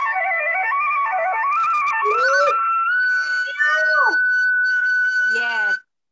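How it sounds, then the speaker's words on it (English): A flute plays a continuous, bending melody with clear sustained notes, loud and close, demonstrated as one of several instruments in a classroom introduction to musical instruments. "This is the sound of flute."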